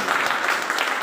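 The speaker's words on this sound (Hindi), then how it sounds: "सब लोग जोरदार तालियों से" Loud, dense applause from an audience at a university function welcoming a guest to the stage, a steady unbroken wash of clapping for about a second.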